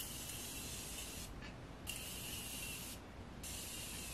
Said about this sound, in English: I love Morphe setting spray,